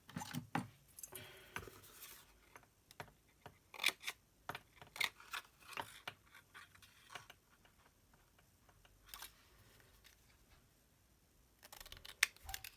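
Scissors cutting a paper scrap for a Christmas match box, close and crisp: irregular clusters of sharp snips and small clicks with quiet pauses between, and no talking.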